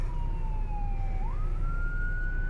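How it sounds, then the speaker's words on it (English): A distant emergency vehicle siren wails, holding one pitch, dropping, then rising again, over a heavy low rumble of road and engine noise inside a moving car. "I don't know if you can hear the sirens in the background right now"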